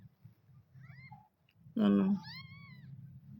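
A mother cat that has just given birth to three white kittens lets out one loud, close meow with a rising and falling tone, over a low indoor hum.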